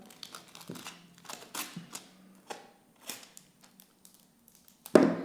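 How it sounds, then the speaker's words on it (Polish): Adhesive tape is peeled off an oleophobic tempered-glass screen protector on an iPhone 15 Pro, a series of soft crinkling ticks and small rips ending in one sharper, louder tearing snap, close by with no talk. "Ta taśma bardzo łatwo się odkleja, dlatego że dzięki warstwie leofobowej, ona się nie przykleja"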